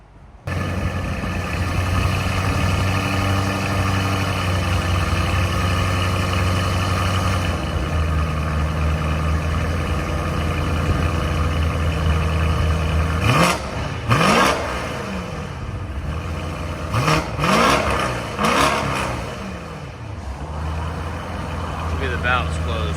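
BMW M850i 4.4L twin-turbo V8 with a double X-pipe exhaust, tuned to 850 hp, idles deep and loud, then barks through several sharp revs near the end while people talk.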